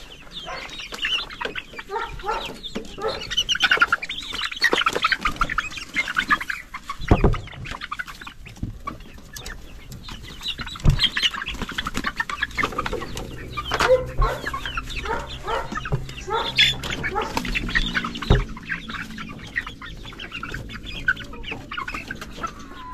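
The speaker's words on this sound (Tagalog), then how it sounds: "sa mga manok ko" A group of chickens in a backyard coop cluck and chatter continuously up close, with overlapping calls and occasional louder squawks and no talking.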